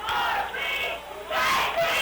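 A crowd cheers at a high school football playoff game between Corbin and Knott County Central, a loud, dense roar of many voices swelling in two waves.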